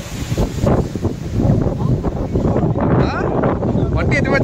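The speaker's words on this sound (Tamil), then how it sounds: "காற்று பரவாயில்ல, எப்படி அடிக்குது." Strong wind roars and buffets the microphone on the open hilltop at Nandi Hills near Bangalore, loud and gusting throughout. Faint voices come through under the noise.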